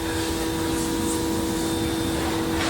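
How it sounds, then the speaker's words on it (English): An electric power washer cleans a Tesla down the street, giving a steady, unbroken whine and spray hiss that runs from start to end at a moderate distance. "the guy down the street's washing his Tesla. And of course he's using an electric power washer."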